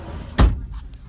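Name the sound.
door being closed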